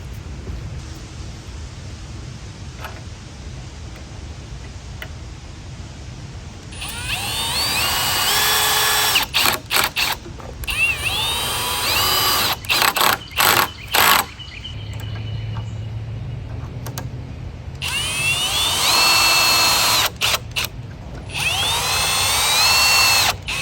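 Power drill driving anchors into the ground to secure a KidKraft wooden play set outdoors, in several loud bursts of whirring with short pauses between them, over a steady bed of insect or cricket chirping.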